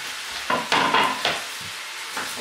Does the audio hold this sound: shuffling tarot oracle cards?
no